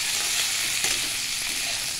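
Crab pieces with figs, capsicum and small-cut potato frying in a pan give a steady, close, dense sizzle with faint stirring scrapes and no voices.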